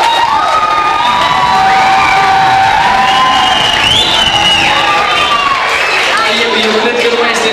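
A school freshman ball audience at Petru Rares National College in Beclean cheers, whoops and shouts continuously in a loud, dense crowd roar, with children's voices and whistles rising above it and people calling out throughout.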